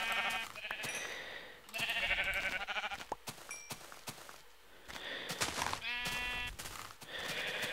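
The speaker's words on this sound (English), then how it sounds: "Come here, stupid sheep." Minecraft sheep bleat several times in the video game, wavering cries repeating every second or two with soft footstep-like clicks between them, fairly quiet and without talk.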